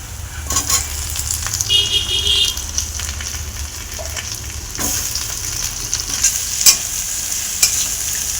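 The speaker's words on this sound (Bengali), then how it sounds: "আলুটা দিয়ে একটু ভালো করে ভেজে নেব" Cut potatoes frying in spiced oil for a rohu fish curry, a steady close sizzle with occasional stirring scrapes and clinks from a utensil against the pan, no voices.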